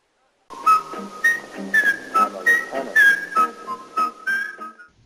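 A person whistles the cheerful theme tune of The Andy Griffith Show, a bright melodic phrase of short notes with a clear rhythmic bounce, heard alone and close.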